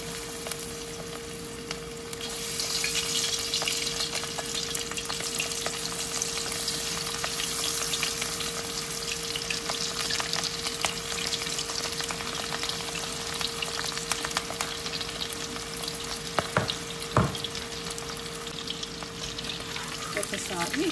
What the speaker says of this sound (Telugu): ఇందాక నేను మ్యారినేట్ చేసుకున్న ష్రింప్ 65 ఇప్పుడు వేస్తున్నాను.